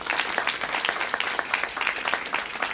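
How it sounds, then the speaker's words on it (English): A room of people at a healthcare bill signing claps in a dense, steady round of applause, close and loud, with no speech over it. "Can we give them a round of applause, please?"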